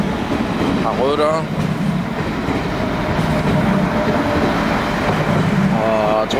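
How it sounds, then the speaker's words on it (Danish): A Danish IC3 express train bound for Struer passes with a loud, steady rumble and rolling wheel noise filling the whole stretch, joined by a couple of short high squeals. "Her har vi lyntog til Struer."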